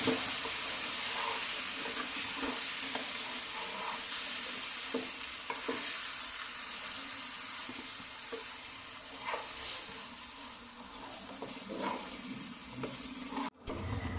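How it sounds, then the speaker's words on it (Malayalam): Fish pickle with vinegar is stirred in a hot pan, a steady close sizzle with soft repeated scraping strokes that runs continuously and cuts off near the end; no voices. "വിനാഗിരിയും കൂടെ ആഡ് ചെയ്ത് നമുക്ക് നല്ലതുപോലെ ഒന്ന് മിക്സ് ചെയ്ത് കൊടുക്കാം"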